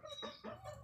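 Pure desi village chickens clucking in short, close, soft bursts, three or four quick calls in under a second.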